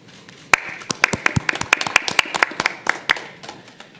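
Scattered applause from a small group: uneven individual claps that swell briefly, then thin out and fade.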